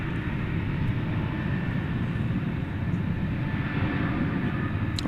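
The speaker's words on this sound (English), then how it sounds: "Frontier, flight 2531 with Sonny the collared lizard upon its tail" A Frontier Airbus A320neo jet, flight 2531, roars steadily at DFW Airport at night, a dense, constant engine rumble with no talk.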